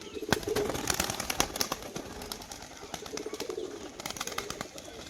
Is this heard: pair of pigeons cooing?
yes